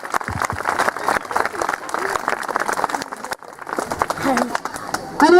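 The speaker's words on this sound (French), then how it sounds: "Ok, on peut l'applaudir." Audience clapping at a medieval fair after a tiger act with Raja the tiger, a dense outdoor crowd applause mixed with voices and talk, swelling again near the end.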